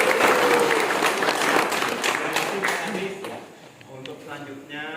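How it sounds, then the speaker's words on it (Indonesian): A group of forestry students on a field visit to a rattan and wood industry centre applaud a speaker, a dense burst of clapping that thins out over a few seconds, with voices speaking over it. "Tepuk tangan untuk Pak."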